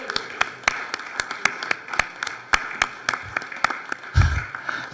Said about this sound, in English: give them all a round of applause for all of their hard work